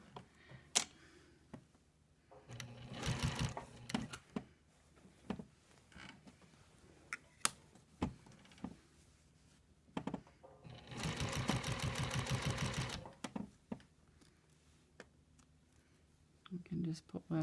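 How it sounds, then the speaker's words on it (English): A sewing machine stitching down quilt binding comes in two bursts of rapid mechanical stitching, close and moderately loud, with scattered clicks and handling noises between the runs. "So now I just bring this back into my machine and finish stitching down there."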